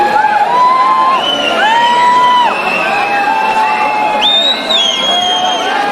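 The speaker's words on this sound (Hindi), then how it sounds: "तालियों का शोर होता रहना चाहिए।" Crowd cheering and whooping at the Miss Ladarcha Queen pageant in Kaza, Spiti, as the second runner-up is named, with loud sustained shouts and tonal calls rising over a dense crowd.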